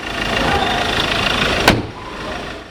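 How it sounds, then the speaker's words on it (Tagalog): A 2022 Ford Ranger XLT Elite Limited Edition 4x2 automatic pickup on the move, heard from inside the cabin as a steady broadband road and engine rumble, with a sharp knock near the end before the noise drops lower. "So driving the Ford Ranger XLT Elite Limited Edition"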